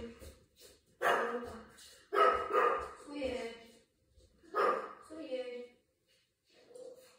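A pet dog barks in short bursts indoors, a few close, loud barks spaced across several seconds, with someone speaking briefly between them.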